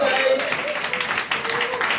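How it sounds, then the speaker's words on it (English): A comedy show audience gives a steady, brisk round of clapping at close range that fills the whole moment, with a voice faintly audible underneath. "Let's give them all a huge round of applause"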